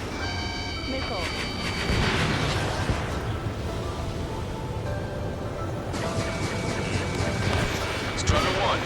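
Missiles launching and exploding during a heated air battle in the Ace Combat 7 Lost Kingdom mission, a steady dense roar of fire and blasts with radio-style voices talking over it throughout.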